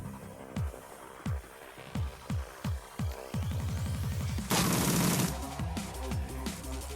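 Gunfire in the Shadowrun Returns game: a series of separate sharp shots at a steady rhythm, then a rapid burst of automatic fire, a loud blast, and a few more scattered shots trailing off.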